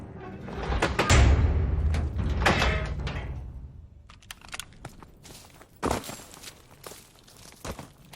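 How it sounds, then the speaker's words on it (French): A wooden door creaks and scrapes open in the WWII shooter Call of Duty: WWII, a loud drawn-out sound over the first few seconds, followed by scattered footsteps and thuds in the room beyond. "Ouvre la porte, je te couvre."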